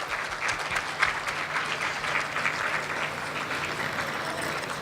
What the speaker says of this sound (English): Can we get a round of applause for all the hard work of Metropolitan Aging Family Services?